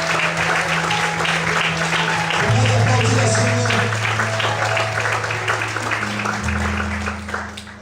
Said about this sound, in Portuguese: Será que você pode aplaudir e glorificar a Deus que forte por isso?